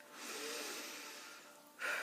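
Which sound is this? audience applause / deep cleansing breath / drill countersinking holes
deep cleansing breath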